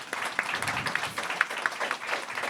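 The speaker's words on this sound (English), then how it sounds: "give another round of applause for all of our speakers here" At a press conference at the People's Forum in New York, an audience gives a moderate round of applause for the speakers, with individual sharp claps standing out against a softer, uneven patter.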